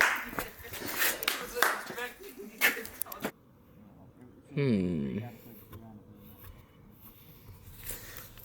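Several sharp hand claps for film sound sync ring out close by on a film set, followed by quieter stretches and some speech.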